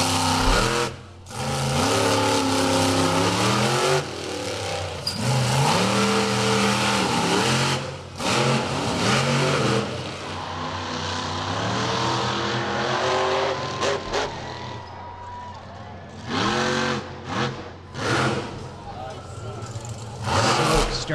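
The big blue Bigfoot monster truck in its retro racing-stripe scheme roars and revs repeatedly through a freestyle run at a Miami, Oklahoma event, loud and surging with pitch swoops, under continuous arena commentary.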